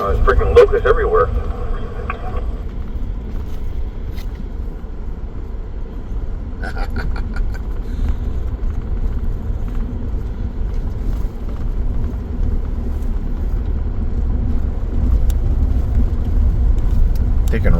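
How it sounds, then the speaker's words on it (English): A truck rolls along a dirt trail on an overland trip, a steady low rumble of engine and tires with wind buffeting the microphone, and a voice talks over it near the start. "Taking a ride on my truck."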